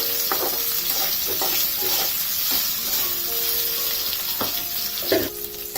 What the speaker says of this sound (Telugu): అల్లాన్ని 5 నిమిషాల వరకు వేయించుకోవాలి.